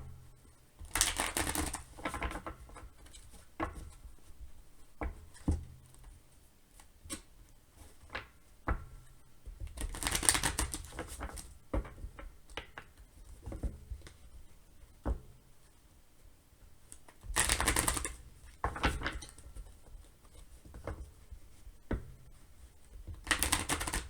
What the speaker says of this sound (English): We'll get a few shuffles here and see what's going on for pile 1.